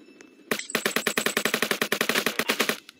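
A big gun in the Roblox game Jailbreak fires a rapid burst of loud, evenly spaced automatic shots, close up, lasting about two and a half seconds after a brief quiet start.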